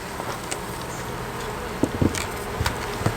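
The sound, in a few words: honey bees buzzing around hive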